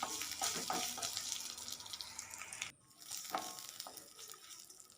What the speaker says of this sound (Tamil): இப்போ இது கூட ஒரு பெரிய வெங்காயம் கட் பண்ணி வச்சுருக்கிறேன், அதையுமே சேர்த்துட்டு நல்லா வதக்கிக்குவோம்